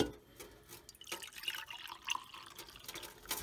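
Coffee pours into a cup held over a kitchen sink, a faint liquid trickle and splash with small drips, fairly quiet and close, with no talk.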